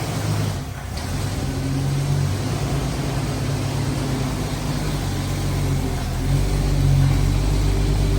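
Steady engine of a Jeep YJ being driven into a garage bay, a continuous mid-pitched rumble with a slight rise in throttle toward the end, fairly close, no talking.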